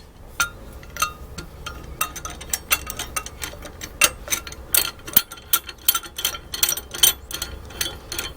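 A big C clamp tightened on a brake caliper piston from a 1985 Ford F250 produces a series of close, sharp metallic clicks and ticks that come at an irregular rhythm and grow denser toward the end.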